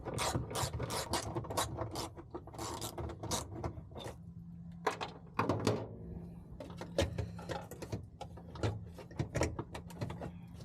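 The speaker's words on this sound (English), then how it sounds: "You'll need to remove this bolt to gain access to the final ECU bolt." A ratchet clicks in rapid, repeated bursts while a bolt is loosened on a Toyota MR2 ECU, with short pauses and metallic ticks between strokes against a steady low hum, close and clear.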